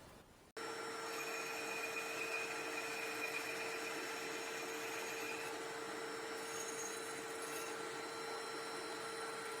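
Power drill boring holes into a wooden chisel holder in a workshop, a steady continuous whine with a constant high tone running from start to finish, close and fairly loud with no talk.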